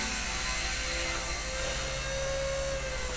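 A Blade mCPX small radio-controlled helicopter whines steadily close by as it comes down to land. The rotor and motor tones hold high and shift slightly in pitch, and no voices are heard.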